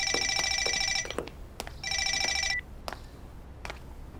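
A telephone rings in an indoor drama scene: two electronic ring bursts, each about a second long, separated by a short gap, loud and close, with a few sharp clicks and no speech.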